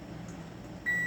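Oven beeping to signal it has finished preheating while lasagna is being made, a single steady electronic tone starting near the end over a low kitchen hum, close and alone.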